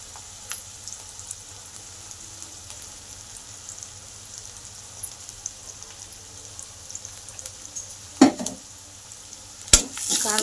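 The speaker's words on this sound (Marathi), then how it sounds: "कांदा सगळा लाल होईपर्यंत परतून घेते." Onions sizzle in a pan while being sautéed until browned for a potato chutney, with a soft, even frying hiss and a couple of sharp spatula scrapes and clinks near the end.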